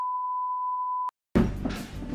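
A steady electronic beep from a phone as its battery dies, held for about a second before cutting off, followed by a burst of close handling noise.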